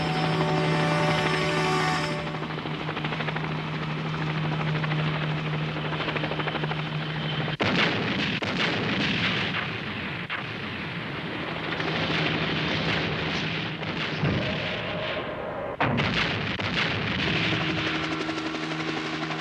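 An enemy attack helicopter in the 1981 anime Fang of the Sun: Dougram drones loudly and continuously, broken by two sharp explosive bursts of gunfire and impacts partway through.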